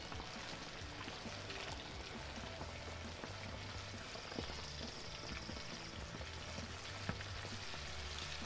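Chicken wings frying in hot grease in a pan, a faint, steady crackling sizzle with small scattered pops running throughout and no voices.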